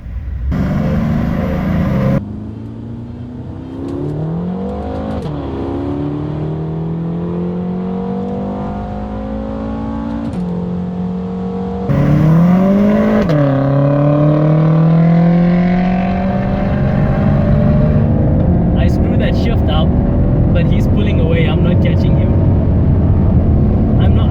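A BMW M6 and a Mercedes CLS63 AMG accelerate side by side in a race, heard from inside as a loud engine note rising in pitch through gear changes, with people talking over it.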